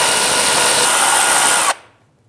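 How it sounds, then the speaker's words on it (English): A cordless 3/8-inch electric ratchet whirs steadily at high speed, spinning bolts off an alternator on a 2016–2025 Chevrolet Malibu 1.5L four-cylinder, loud and close for under two seconds before cutting off abruptly. "I'm gonna use my electric 3/8 drive and spin those right off"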